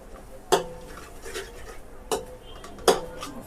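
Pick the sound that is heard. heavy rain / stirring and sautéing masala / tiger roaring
stirring and sautéing masala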